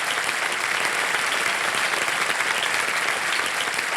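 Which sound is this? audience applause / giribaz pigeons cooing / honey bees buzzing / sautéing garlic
audience applause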